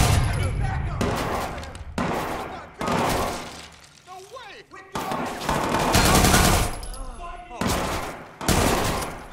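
Gunfire aimed at the player in the video game Watch Dogs 2: bursts of rapid automatic fire in loud, dense volleys with short gaps, plus some shattering impacts, alongside someone talking.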